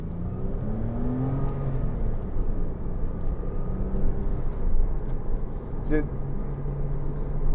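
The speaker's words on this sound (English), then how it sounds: "I'd be holding it in gear too long all the time just to listen to that engine note" A Porsche Cayman 2.9 (987) engine drones and revs steadily from inside the cabin, with road roar throughout and people talking over it.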